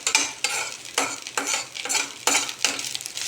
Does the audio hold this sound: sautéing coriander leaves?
yes